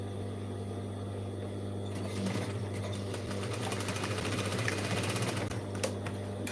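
A sewing machine stitches a jeans bag with a steady mechanical hum, then speeds into a fast, continuous rattling run of needle strokes, close and loud with no voices.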